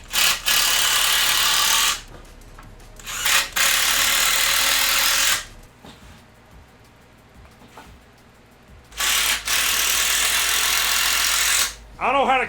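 A power drill drives screws into a homemade box build in several loud whirring bursts with pauses between them, and a short rising whine comes at the end.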